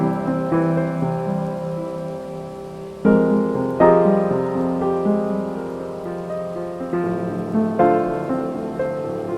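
Sampled rain from a sound library plays under sustained keyboard-like tones, a soft continuous wash of rainfall beneath layered notes that swell with new chords.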